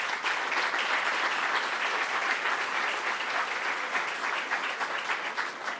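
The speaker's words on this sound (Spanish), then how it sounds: "Un aplauso, por favor." Sustained audience applause fills an auditorium at a journalism award ceremony, dense steady clapping from a large crowd at a constant loud level throughout, with no voices over it.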